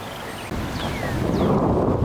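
Strong wind buffeting a microphone on an open disc golf course, a loud, continuous low roar with gusty rumble that swells slightly toward the end, with no talking.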